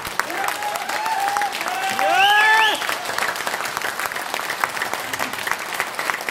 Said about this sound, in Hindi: तो अपने गर्व वाली तालियां बजाना एक बार आप कैसे बजाएं?